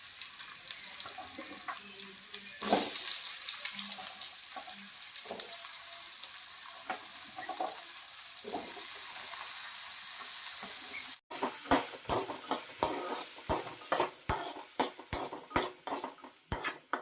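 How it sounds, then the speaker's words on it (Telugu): Potato pieces fry in a pan for a Telugu potato-tomato curry, giving a steady loud sizzle with a sharper burst as they go in, then scraping spoon clicks and stirring taps toward the end, with no talking. "ఇప్పుడు ఆలుగడ్డ ముక్కలు వేసుకోవాలి."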